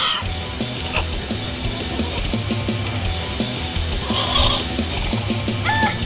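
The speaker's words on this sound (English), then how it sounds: "Heavy metal rooster." Rooster in Far Cry 6 clucking and crowing in short bursts over a loud thumping heavy metal music bed, the bird calls sitting near and clear above the beat.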